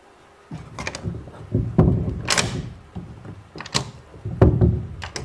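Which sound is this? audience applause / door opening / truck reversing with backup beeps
door opening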